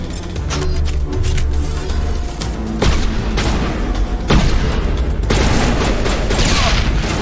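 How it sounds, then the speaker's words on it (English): Grenade explosions boom in a Mass Effect firefight, with several loud broadband blasts at intervals sitting over continuous combat noise and gunfire. "And another grenade."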